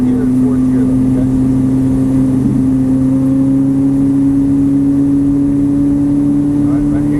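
Ferrari 458 engine on a track pulling steadily under acceleration, a loud, sustained tone slowly rising in pitch for several seconds, close and constant throughout.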